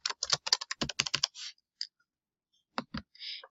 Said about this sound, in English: Once I'm here, I'm going to type my first and last name.